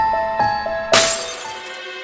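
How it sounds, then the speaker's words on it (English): Glass shatters in the Roblox game Brookhaven RP, a single sharp crash with a bright, scattering tail of tinkling shards, following soft chiming game tones. "I heard some glass breaking"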